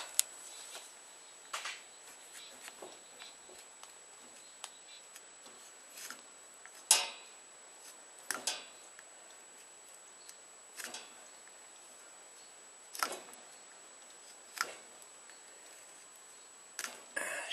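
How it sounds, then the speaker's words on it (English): A pocket knife shaves wood like a draw knife while a French butcher knife is being converted, giving sparse, sharp scraping strokes at irregular intervals against a quiet, faintly hissing background. "Just using my pocket knife, like a draw knife"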